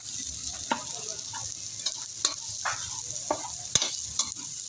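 Chili peppers go into a hot pan of tilapia for ginataang tilapia, and a steady close sizzle of frying runs throughout, broken by scraping stirs and light clinks.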